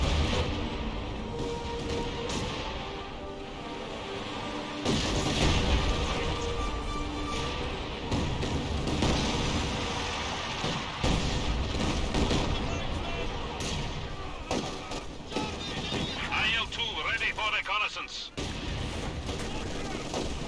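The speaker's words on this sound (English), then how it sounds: "it sounds like an ML-20 deployed out on the field as well" Artillery fire from an ML-20 howitzer in a Company of Heroes match, heavy booms and gunfire crackling through a dense, continuous battle mix with commentary running over it.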